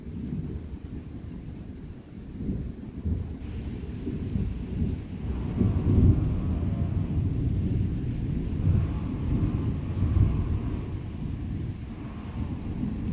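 During a violent thunderstorm, thunder from a nearby lightning strike rolls in as a loud, deep rumble that swells and lingers for several seconds over steady rain and wind buffeting the microphone.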